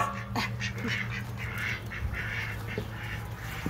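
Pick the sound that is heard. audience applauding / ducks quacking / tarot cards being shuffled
ducks quacking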